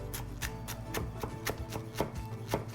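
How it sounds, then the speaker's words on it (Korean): A knife finely julienning cabbage on a cutting board, with about a dozen crisp, evenly spaced chops in a steady quick rhythm, close and clear with no voices. "양배추를 곱게 채 썰 겁니다."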